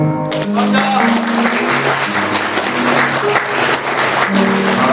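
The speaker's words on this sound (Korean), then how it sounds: "하고 인사 올릴 때 뜨거운 박수로 축하와 축복해 주시기 바랍니다" Wedding guests in a Suwon wedding hall applaud the couple during the ceremony. Dense, lively clapping runs throughout, layered over tonal music.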